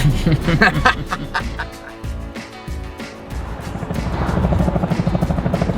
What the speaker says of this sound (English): Whoa, look at that copter.